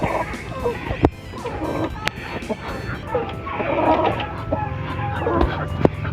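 Hens cluck and chicks peep around an incubator and brooding area, a busy close mix of poultry calls with sharp knocks and a person talking over them.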